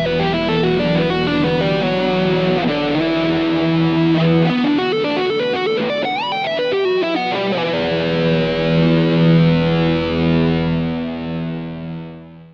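A distorted lead guitar through a Roland GR-55 guitar synthesizer plays a melodic line over a sustained synth keyboard pad, loud and continuous, ending on a held, fading chord.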